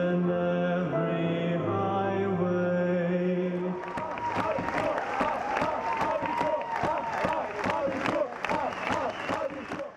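Crowd at a school graduation ball in the Tivoli, Freiberg, shifting from sustained singing into loud cheering and rapid, dense applause that carries on steadily to the end.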